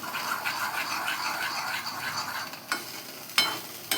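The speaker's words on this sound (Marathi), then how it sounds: "मस्तपैकी मिक्स करून घ्यायचंय आपण आणि अशा पद्धतीने आपली चटणी तयार" Chutney being stirred and mixed while preparing an idli breakfast, a steady wet scraping and swishing with a faint sizzle, punctuated near the end by a few sharper clinks of the spoon against the pan.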